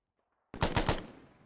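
A short burst of gunfire in a military shooter game set during a Black Hawk Down operation: three rapid, loud shots that start abruptly from silence and ring out briefly, with no talking.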